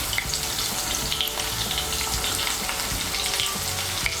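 Sliced teasel gourd, snake gourd and pointed gourd fry and get stirred in a pan for a vegetable curry, a continuous close sizzle with scraping stirs over it and no talking.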